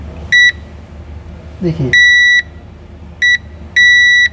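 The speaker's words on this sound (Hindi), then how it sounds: "ये बीप आ रहा है, तो इसमें बीप आने का मतलब है कि ये ट्रैक यहाँ से यहाँ तक पूरा ओके है" Multimeter continuity beeps sound as a probe bridges a track on a Poco X4 phone circuit board: four sharp electronic tones, two short and two longer, loud and close, with a brief spoken word between them.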